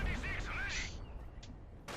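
Explosions and artillery blasts in the World War II strategy game Company of Heroes 2, a burst of booming impacts near the start followed by fainter rumbling, with a commentator's voice partly underneath.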